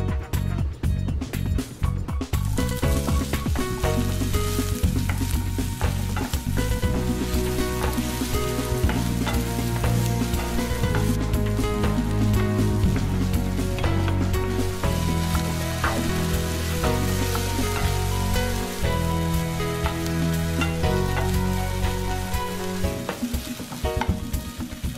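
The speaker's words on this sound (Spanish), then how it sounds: "lo siguiente que voy a hacer va a ser sofreír la cebolla con el brócoli" Onion and broccoli sautéing in a pan give a steady, dense sizzle with stirring that runs the whole time, partly buried under loud background music.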